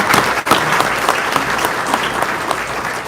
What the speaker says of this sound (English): How about a big round of applause to all of them?